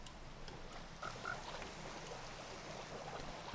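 Minecraft frogs giving a couple of soft, short croaks amid quiet underwater ambience, faint and sparse.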